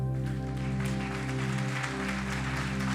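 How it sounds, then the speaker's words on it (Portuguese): A church congregation applauds during a worship service, a steady wash of clapping layered over sustained organ or keyboard chords that continue throughout. "Dê um forte aplauso ao Senhor."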